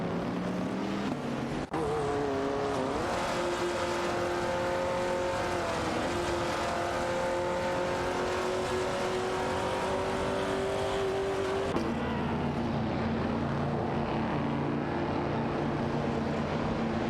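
Race cars roar through an AI racing video game, engines whining and shifting pitch continuously as they jostle toward a turn, loud and steady with a sudden drop in tone near the end, and no talk.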